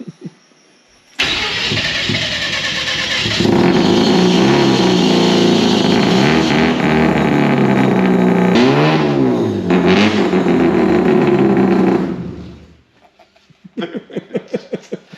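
A rotary-engined bus starts with a cranking stutter, then catches and roars loud and close, revving up and down with a raspy, buzzing exhaust. It cuts off abruptly, followed by a few sputtering pops.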